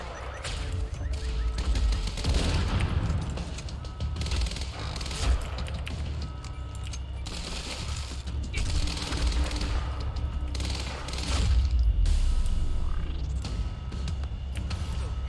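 Gunfire in the video game Quantum Break, with dense, continuous bursts and explosive crackle running loudly through the whole stretch amid busy mechanical game noise.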